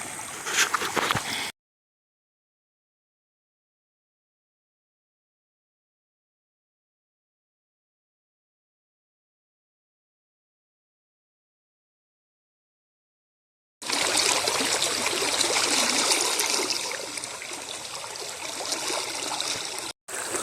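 A clear, cold spring-fed river near Echo Bluffs State Park in Eminence, Missouri, rushes and gurgles close by, broken by a long stretch of silence before the flowing water returns.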